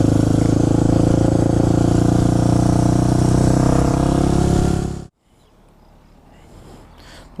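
Suzuki DR 650 supermoto single-cylinder engine running loud and steady while riding on a sunny road, with a constant droning roar for about five seconds before cutting off to quiet outdoor background.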